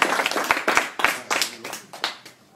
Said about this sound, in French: on applaudit Hélène